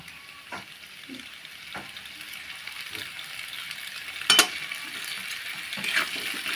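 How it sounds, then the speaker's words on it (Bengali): Pasta stirred and fried in a pan gives a steady close sizzle, broken by a few sharp scrapes and clinks of the spoon against the pan. "নাড়াচাড়া করে নেব, ভালোভাবে পাস্তাটা ভাজা ভাজা করে নেব।"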